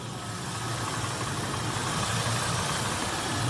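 A 5.4 Triton V8 in a 2000 Ford F-250 idles steadily, a close, even low rumble holding throughout with no voices.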